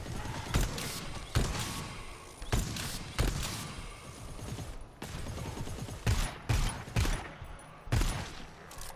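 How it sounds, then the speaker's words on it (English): Gunfire in the co-op shooter game GTFO: bursts of sharp shots in irregular clusters, loud and close, with mechanical clatter between them and no talking. "I shot 3 bullets there and only got fucking 1 kill"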